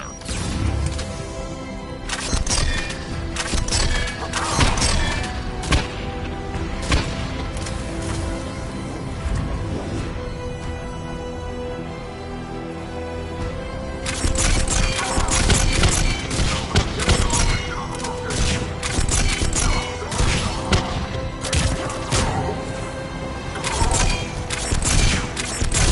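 Enemy gunfire in Mass Effect 3, a steady barrage of rapid shots and crashing impacts over a continuous game score, loud and dense with a brief lull near the middle.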